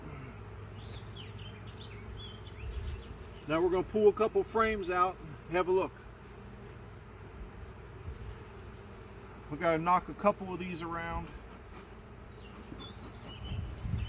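Honey bees hum around an open hive box during a frame inspection, a low continuous drone beneath someone talking in two bursts, with a few brief higher buzzes close by.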